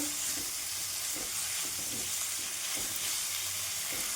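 Onion paste with cumin and bay leaf frying in a pan for restaurant-style palak paneer, a soft constant sizzle with periodic stirring scrapes, fairly quiet and close, no talking.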